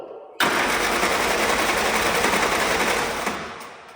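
An old Willys engine cranking over, starting abruptly as a loud, close, continuous rapid churning that holds steady for about three seconds before tapering off.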